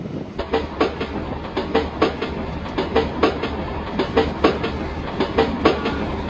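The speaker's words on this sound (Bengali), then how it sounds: "চলো ট্রেনটা ছেড়েও দিল সেই সঙ্গে।" A train pulls away and runs along the rails at night, its wheels beating out a steady rhythmic clickety-clack over a constant low rumble.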